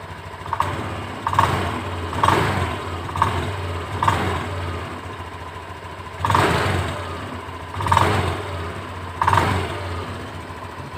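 Honda Beat scooter engine revved in repeated short blips, about seven throttle bursts rising over a steady idle, close and fairly loud with no talking.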